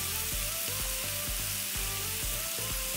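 Chicken tikka pieces sizzle steadily in a hot pan over medium-high flame, a loud continuous frying hiss with regular scraping stirs or turns every half second or so.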